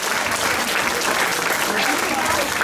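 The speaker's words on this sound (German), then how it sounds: "Applaus!" A dance show audience breaks into dense, sustained applause, many hands clapping loudly and evenly for a few seconds.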